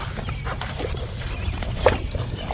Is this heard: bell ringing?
no